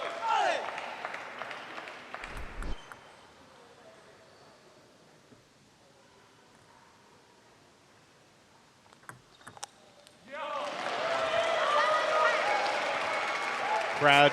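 Crowd at a Seattle versus Portland match applauding, a burst of clapping at the start, then a quieter stretch with a few sharp knocks, before loud sustained applause and cheering swells up near the end.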